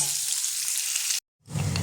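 Steady hot-oil sizzle of chopped onion and potatoes frying in a pan, cutting to brief silence before the loud frying hiss returns.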